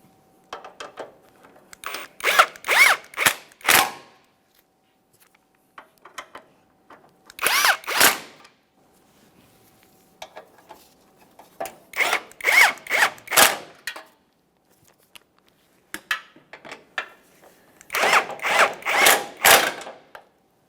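Power tool tightening the bumper impact absorber bolts on a 2014-2018 Mazda 3, loud, close buzzing rattles in four clusters of short bursts, separated by silent pauses.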